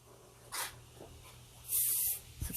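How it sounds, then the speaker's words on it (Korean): Hairspray hisses from an aerosol can onto an upstyled hairdo during salon practice: two short, close spray bursts, the second longer, with quiet handling sounds between them. "스프레이 뿌리고요"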